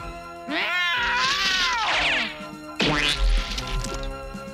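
A cartoon cat yowls loudly in two long, wavering caterwauls with rising and falling pitch, set against a busy animated soundtrack.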